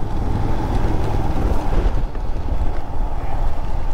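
Heavy rain and wind rush during a monsoon motorcycle ride from Chennai to Munnar, a loud, steady roar with no voices.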